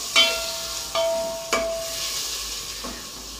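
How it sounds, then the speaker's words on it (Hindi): Steady frying hiss of onions in hot oil with a few sharp clanks of a utensil against the pan, close by, no voices. "ऑयल हमारा गर्म हो गया, अब हम डालेंगे प्याज इसके अंदर।"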